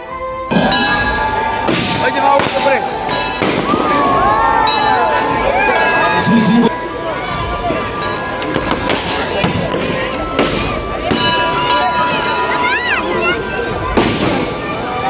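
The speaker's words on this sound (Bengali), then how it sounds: "আর এবার চলো তোমাদেরকে আবার বাজি ফুটানো দেখাই।" Fireworks and firecrackers bursting at a Diwali Shyama Puja celebration, a dense, loud, continuous crackle of bangs and thuds over a busy crowd with voices throughout.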